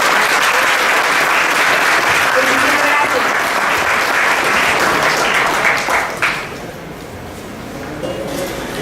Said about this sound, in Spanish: Yo creo que es justo y merecido regalarles otro fuerte y caluroso aplauso.